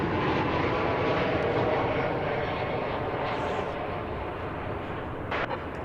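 An American Airlines airliner landing at an airport gives a loud, dense jet roar that starts strong and eases slightly over a few seconds, heard alone without speech.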